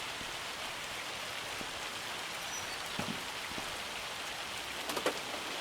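Steady hiss of hail and rain falling in the Farming Simulator 25 video game, a constant wash of noise with a few faint scattered impacts, no voices.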